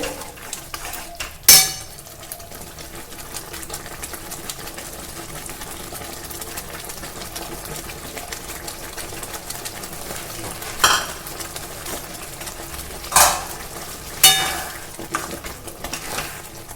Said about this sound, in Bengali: ভালো করে মিশিয়ে নেব এবং সমস্ত মশলাটা একসঙ্গে কষতে থাকবে